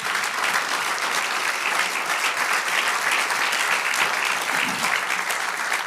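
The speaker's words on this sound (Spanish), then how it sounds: "Den aplauso al Señor." A church congregation applauding during a pastor's sermon, loud, dense and sustained clapping filling the room evenly from start to finish.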